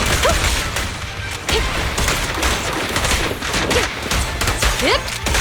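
Sustained gunfire in an agent-story shooter game, a loud, dense fusillade of rapid shots and impacts running throughout, with brief voiced combat lines mixed in.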